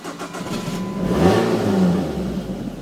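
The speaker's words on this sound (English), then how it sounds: "now the car's running" A car engine, just started after sitting idle during lockdown, runs close by with a steady mid-pitched rumble and swells briefly as it revs before settling back.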